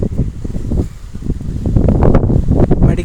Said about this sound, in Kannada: ಬಿಜಾಪುರದಲ್ಲಿ ಇವತ್ತು ತುಂಬ ಗಾಳಿ ಬೀಸಕತ್ತೈತಿ